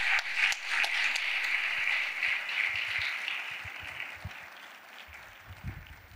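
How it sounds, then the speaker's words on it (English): An audience applauds Aarathi Prasad at a talk on silk, steady clapping at moderate level that thins and tapers toward the end, with a few louder individual claps near the close. "First big hand of applause for Aarathi Prasad."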